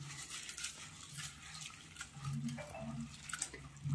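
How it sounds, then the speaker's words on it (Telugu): Flattened rice is stirred into buttermilk, giving a soft, wet swishing and sloshing that continues without pause and without voices. "ఇలా వేసుకొని ఇలా కలుపుకోవాలి మజ్జిగలో."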